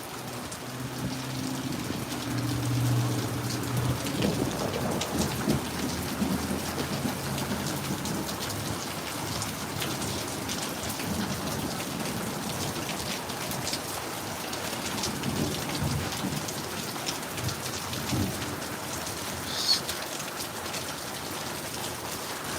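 Heavy rain pours down through a stormy Friday night, a dense steady hiss of drops on surfaces with a low rumble of thunder rolling underneath and no voices.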